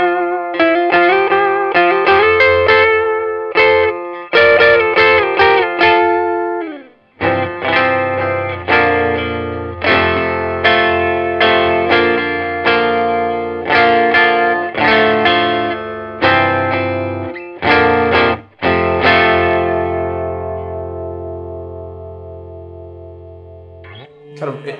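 Epiphone James Bay "1966" Century guitar through fuzzy, funky effects with distortion and chorus. Loud, close phrases of thick, saturated chords and notes ring out with brief gaps between them, and no voice is heard.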